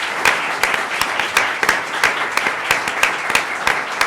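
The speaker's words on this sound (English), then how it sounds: "I'd like to give them a round of applause" Audience applause at a law review symposium on Supreme Court reform, a steady patter of many hands clapping with sharp individual claps standing out, sustained for several seconds without speech.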